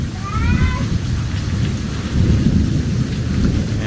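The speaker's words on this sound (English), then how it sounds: "when thunderstorms roll in, admiring the view from indoors is always the wisest choice" Steady heavy rain pours throughout with deep rolling thunder rumbling underneath during a thunderstorm, plus a brief high whining cry near the start.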